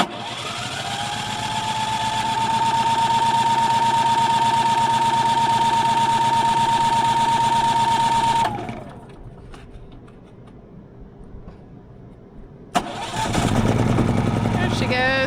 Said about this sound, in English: It's been a minute since we ran this generator. Hoping it's gonna crank.